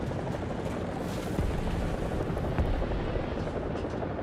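Enemy helicopter in the War Thunder video game, landed near a capture point on the Kursk map, its steady rotor drone filling the clip alongside dense battlefield rumble and scattered gunfire.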